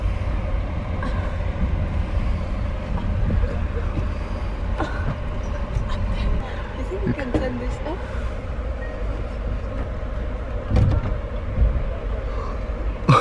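Steady low rumble inside a moving train in China, with faint clanks and knocks, a bump, and people talking quietly in the background.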